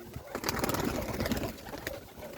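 Low, throaty pigeon cooing from a village loft of Ukrainian high-flying pigeons carries on steadily through a dense background of rustling and shuffling birds, fairly close, with no talking.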